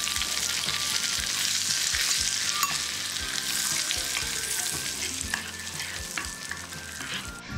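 Hot chili oil stirred into a bowl of chili powder: a dense, steady sizzle with scattered clicks and scrapes of a utensil, close up, without voices.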